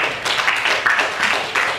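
Children at an Islamic boarding school clapping together in a short burst of applause, several quick rhythmic pulses of hand claps close by, with no talking.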